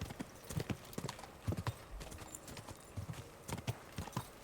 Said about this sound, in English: This horse is pretty fast.